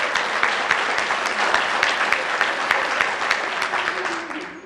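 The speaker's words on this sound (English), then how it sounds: "Can we give her a round of applause?" Audience applause at a business appreciation breakfast, a lively burst of clapping from the room at close range, fairly loud and steady, fading in the final moments.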